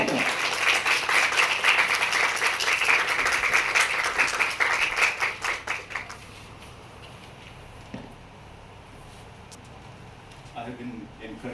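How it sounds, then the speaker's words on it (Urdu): A crowd at a Lahore human rights summit applauds to welcome the keynote speaker, Dr. Zulfiqar Kazmi: dense, loud clapping for about six seconds that thins and fades into a quiet hall murmur. "بھرپور تالیوں میں استقبال کیجیے گا ڈاکٹر ذوالفقار کاظمی صاحب کا"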